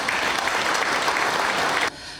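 An audience at an inauguration ceremony for a crime victim support center claps for its members, a steady burst of applause that cuts off abruptly near the end.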